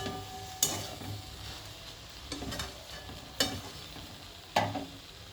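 Mixed vegetables for a Bengali panchmishali chorchori fry in a pan under a steady sizzle, with four sharp scraping stirs spaced a second or so apart, close and clear, with no talking.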